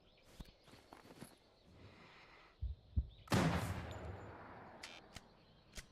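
Sniper rifle gunshots in Black Desert Online, a few sharp cracks scattered among lighter clicks and thumps, with one bigger burst trailing into a rumbling decay.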